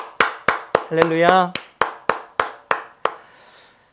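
A church congregation claps during a Sunday worship service in a steady, evenly spaced rhythm of about a dozen sharp claps. A voice briefly calls out partway through, and the claps end in a fading room echo.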